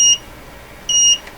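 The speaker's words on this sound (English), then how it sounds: "And who is beeping at me?" Two short, clean electronic beeps from test equipment on a tube-testing bench, about a second apart, bright steady tones standing alone over a quiet background.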